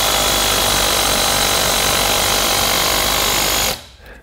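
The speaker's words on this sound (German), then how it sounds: "Das wird man auch gleich merken, wenn ich hier ansetze zum Bohren." A Bosch FlexiClick cordless drill with a hammer drill attachment hammers continuously and loudly up close for nearly four seconds, then cuts out abruptly, leaving near silence.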